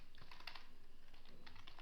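Quick, uneven keystrokes on a computer keyboard as code is typed, close and fairly quiet, with no talking.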